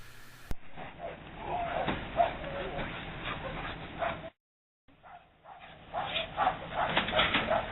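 A working dog, trained with a rolled-up towel as its reward, whimpers, yips and gives short barks in a quick, uneven run. There is one brief cut of silence partway through.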